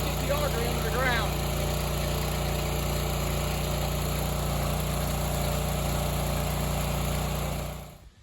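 A powered auger churns a post hole three feet into the ground while its engine drones steadily and loudly, fading out at the very end, with a faint brief chirp early on.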